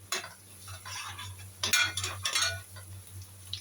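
Garlic is spooned onto softened onions in a pan, with a spoon scraping and stirring close by, soft clinks against the metal and a gentle sizzle underneath, set against a steady low hum.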